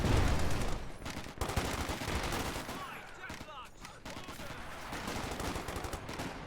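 Rattling bursts of infantry gunfire from a Company of Heroes 2 match crackle in quick repeated volleys throughout, mid-distance and fairly loud, with faint game ambience beneath.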